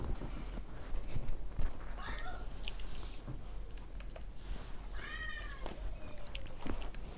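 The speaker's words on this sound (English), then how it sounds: "My cat's in the room." A cat meows a few times in a room during a Tekken fighting game livestream, the calls faint and brief over steady background noise and faint game sounds.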